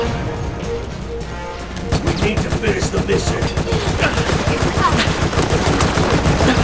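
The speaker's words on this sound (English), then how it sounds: "I'm shooting her in the face with a heavy machine gun" Heavy machine gun in Resident Evil: Operation Raccoon City, sustained rapid automatic fire in a dense, even rhythm, loud and close, rising after a brief quieter stretch.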